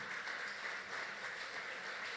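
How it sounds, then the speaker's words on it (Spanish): Church congregation applauding newlyweds, a short burst of steady, even clapping from a large group, fairly distant and continuous throughout. "Yo quiero pedir un aplauso para David y Joana."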